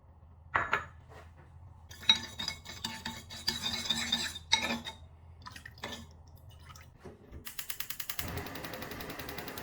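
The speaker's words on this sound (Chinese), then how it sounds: "白糖1勺， 倒入清水搅拌" A spoon stirs sugar and water in a bowl, giving scattered light clinks and taps against the bowl, then a quick run of rhythmic scraping strokes at the end.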